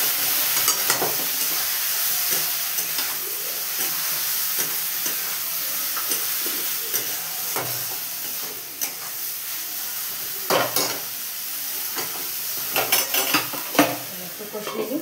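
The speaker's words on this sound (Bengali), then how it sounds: "অল্প একটু বাটি ধোয়া জল দিয়ে ভালো করে মশলাটা কষিয়ে দেবো" Spice paste sautés in a pan with a splash of water, a continuous sizzle and hiss with frequent spatula scrapes and pan knocks clustering toward the end, no speech.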